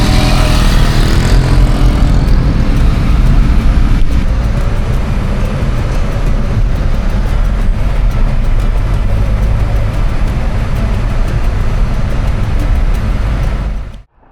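A car drives through Nouakchott, Mauritania, with its windows open, giving a loud, steady rush of engine and road noise with heavy wind buffeting that holds for the whole stretch before cutting off abruptly at the end.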